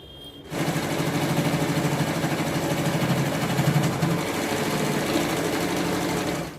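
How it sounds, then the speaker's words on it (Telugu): Sewing machine stitching the folded edge of a small boy's cotton pyjama, a steady rapid mechanical whirr that starts after a brief quiet moment and runs continuously and close up with no voices. "ఇప్పుడు దీన్ని మరలా ఈ పోగులు ఊడిపోకుండా ఇలా మడిచేసి స్టిచ్ చేసేయండి"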